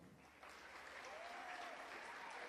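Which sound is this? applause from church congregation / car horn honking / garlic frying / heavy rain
applause from church congregation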